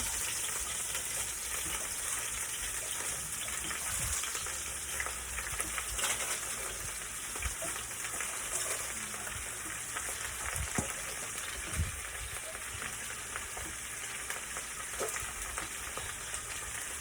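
Cabbage sautéing in a hot pan for seafood pancit canton with bihon, a steady close sizzle and crackle running throughout with occasional soft stirring knocks, no talk.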